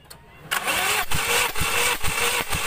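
A car engine cranks on the starter during a compression test. After a brief quiet start, loud rhythmic chugging pulses repeat about twice a second, close up, with no clear speech.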